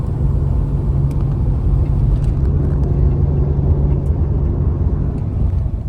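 A 2000 Chevrolet Camaro fitted with a fabricated tow hitch receiver drives around the block, its engine and road noise forming a loud, steady low rumble heard from inside the car.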